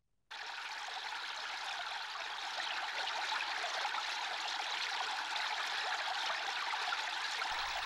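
Water from three channels at Hoeamsa temple site spills down stepped garden terraces like a small waterfall, a steady broadband rushing that starts abruptly and holds constant and fairly loud throughout, with no voices.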